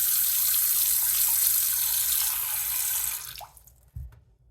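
Water pours steadily from a Delta Mylan widespread faucet into a sink, a close, constant rushing that cuts off abruptly near the end, followed by a soft low thud.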